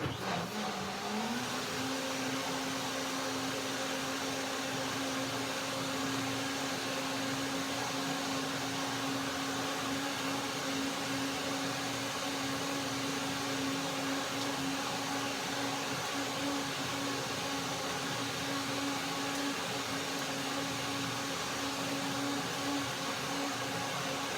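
A blender whirs steadily, blending a chili vanilla coconut pea soup with water in a kitchen. Its motor hum climbs in pitch at the start, then holds a constant droning tone for a long, uninterrupted stretch.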